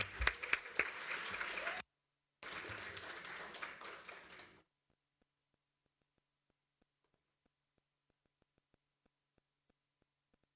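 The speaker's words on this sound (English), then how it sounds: "So, round of applause for Mackenzie Jackson." An audience at a cancer survivorship conference claps for a few seconds, dense and close, then the applause cuts off to near silence.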